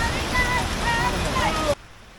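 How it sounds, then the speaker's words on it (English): Heavy rain pours during a motorbike taxi ride through Cebu City, a dense, loud roar of rainfall and wind that cuts off abruptly near the end. "The rain keeps coming down."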